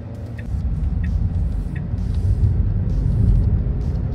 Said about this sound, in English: the only thing you guys are hearing right now is the air conditioning